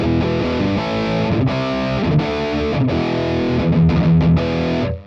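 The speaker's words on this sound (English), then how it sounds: "so now let's try the distortion" Electric guitar played through a distortion pedal, thick saturated chords ringing and changing in bursts, loud and close with no voices.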